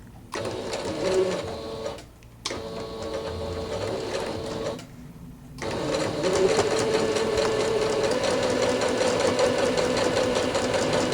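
A sewing machine stitches fabric for a homemade hot and cold pack in steady, loud mechanical runs, pausing briefly twice before resuming at a slightly quicker, fuller pace.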